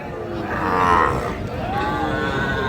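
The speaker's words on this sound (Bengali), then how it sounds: "শাহীওয়াল জাতের ষাঁড় বাছুর গরু" Young Sahiwal bull calves at a cattle market give a loud, drawn-out moo, then a second lower moo follows, close by against a murmur of background activity.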